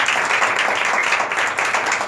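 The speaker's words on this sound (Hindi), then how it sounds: "बहुत सारे जोरदार तालियां बजाइए" Loud, dense applause from a church congregation during a sermon, continuous and close, with no speech over it.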